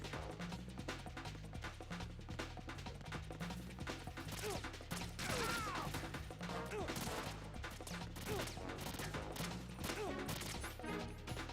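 Heavy gunfire from a big gun in Metal Gear Solid 2 rattles in dense, continuous bursts over game music and effects for the whole stretch, loud and close.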